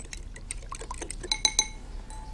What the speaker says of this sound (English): Give it a good old whisk. Mix them both up together.